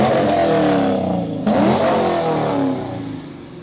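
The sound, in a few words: 1966 Pontiac GTO engine revving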